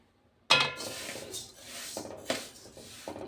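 Spices are stirred in a dry pan while being roasted, with a sudden scrape and clink of the utensil followed by softer rubbing and a few more metallic taps.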